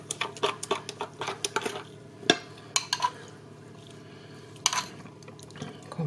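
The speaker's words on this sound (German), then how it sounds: "Dazu gebe ich das Cola und den Essig zu den restlichen Marinadezutaten. Rühre das alles schön durch." Cola and vinegar marinade for spareribs is stirred in a bowl, with a run of quick clinking, sloshing strokes followed by a few sparser taps and a quiet pause, close and fairly soft.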